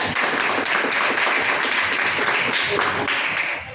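Classroom students clapping for a classmate during a history lesson, a dense burst of many hands applauding together for a few seconds before fading at the end.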